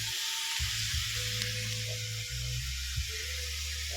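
Chicken feet sizzle steadily in a pan as fish sauce goes in, a soft continuous frying hiss with low hums and faint clinks underneath, fairly quiet and close.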